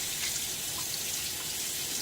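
Tap water running steadily into a sink to rinse after shaving, a continuous close hiss with no pauses.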